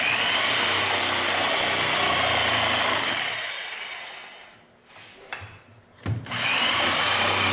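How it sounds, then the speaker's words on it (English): A jigsaw cuts through a timber jack rafter with a loud, steady buzzing whine for about four seconds. It then fades and stutters as the blade slows and stops, and restarts near the end. "we'll finish the cut with our jigsaw"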